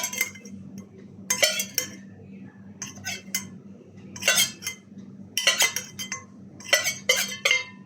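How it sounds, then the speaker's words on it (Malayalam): A spoon clinks and scrapes against a bowl while stirring a kasturi turmeric face pack, in close, rhythmic bursts of bright clinking separated by short quiet pauses. "അപ്പം ഇനി ഞങ്ങൾക്ക് നന്നായിട്ടൊന്ന് മിക്സ് ചെയ്യുക."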